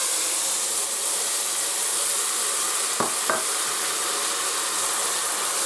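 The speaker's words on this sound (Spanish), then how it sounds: "Una vez que están fritos los ajos, se echa el tomate." Garlic and tomato frying in a pan for garlic soup, a steady broad sizzle throughout with two brief scraping knocks of stirring near the middle.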